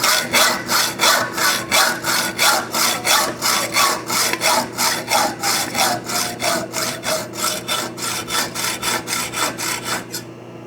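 Hand hacksaw cutting metal tubing at a marked miter line in a frame-building workshop, a steady rhythm of about two dozen rasping back-and-forth strokes, close and loud, with no talking.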